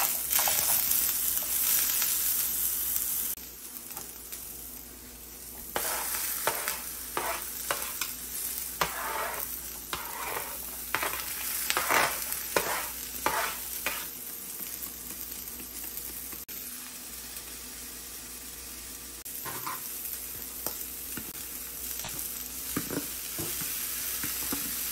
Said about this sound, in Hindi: फिर इसके बाद मैं सबको अच्छे से फ्राई कर लूँगी और उसके बाद मैं इसमें अपने उबले हुए कॉलीफ्लावर को भी ऐड कर लूँगी